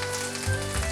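Garlic, curry leaves and asafoetida temper in hot oil in a Gujarati village kitchen, giving a brief, close, steady sizzle.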